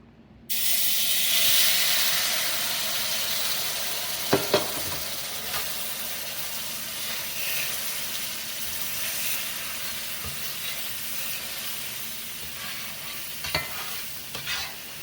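A roux with broth added for wood duck sauce piquante sizzles in a skillet. A loud, steady frying hiss continues throughout, with occasional scraping stir strokes and no talk.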